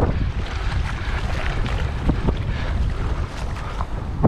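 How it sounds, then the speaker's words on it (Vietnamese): Strong wind buffets a small fishing boat at sea, a loud continuous roar with heavy low rumble from wind on the microphone and faint wave wash, no speech. "Gió dài quá."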